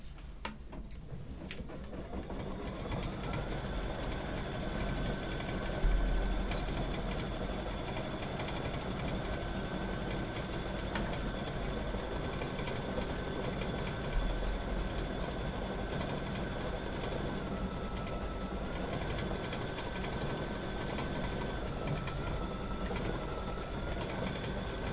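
A quilting machine runs steadily while stitching a Hoffman Dream panel, a continuous close mechanical hum with a rapid needle rhythm and a faint whine, holding level from start to end with no talk.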